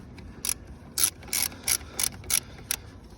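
A ratchet clicks in seven quick bursts while snugging screws on a 2018 Dodge Charger R/T trim piece, close and crisp with short pauses between strokes.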